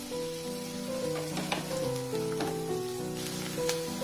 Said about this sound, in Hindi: और ये एक मीडियम साइज का प्याज हम इसमें डालेंगे और लाइट गोल्डन ब्राउन होने तक इसको हम पकाएंगे ऑयल में।